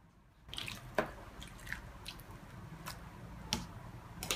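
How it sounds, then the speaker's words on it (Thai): Water poured into instant snow powder in a frozen-themed can, giving faint soft drips and squishy wet crackles with a few sharper pops, quiet and close with no talking. "แล้วก็เทน้ำลงไปเลย"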